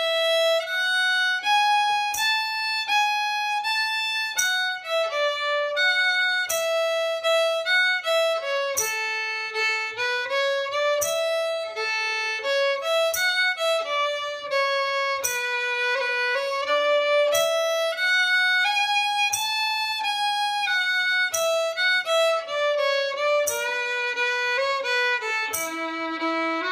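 Solo fiddle plays the B part of Margaret's Waltz through to its final ending, a clear lilting three-beat melody with bowed notes and occasional double stops, close and unaccompanied.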